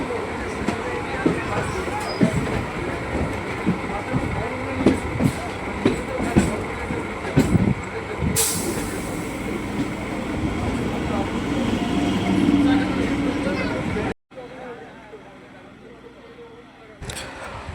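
A Diamond Harbour–Sealdah local train runs with a steady loud rumble and rail clatter, heard from on board, then drops abruptly to a quieter hum near the end.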